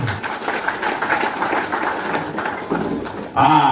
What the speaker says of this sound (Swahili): Bora ya tukatilia makofi mengi tafadhali.